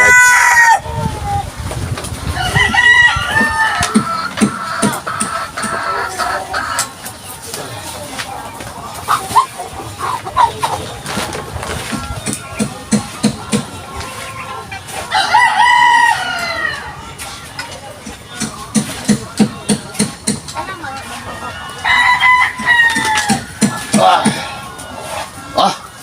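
A flock of chickens and roosters clucks and crows repeatedly nearby, with several crows rising over steady clucking while someone talks throughout.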